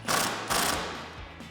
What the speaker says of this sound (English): tighten it down with a 19mm socket